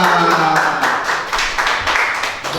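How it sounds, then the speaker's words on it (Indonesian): Audience applause at a national education seminar, a burst of clapping from a crowd lasting a few seconds with a voice carrying over it. "Tepuk tangan untuk kita semua."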